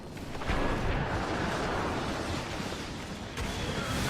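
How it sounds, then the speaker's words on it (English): Rocket barrage from the Tinker hero during a Dota 2 match, a dense, loud whooshing roar of blasts running continuously with a sharp burst near the end. "Spamming those rockets."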